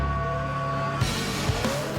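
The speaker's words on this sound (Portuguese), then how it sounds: "Motor no limite. Freadas fortes." Superbike racing motorcycles on a circuit, engines pushed to the limit under hard braking: a loud, continuous high-revving engine whine shifts in pitch, broken by a few brief thumps.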